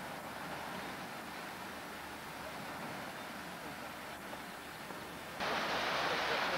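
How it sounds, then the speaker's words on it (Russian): Waves on Lake Baikal in early June produce a steady, broadband wash that stays constant throughout and grows slightly louder and brighter near the end, with no one speaking. "Вот он Байкал, вон они волны байкальские."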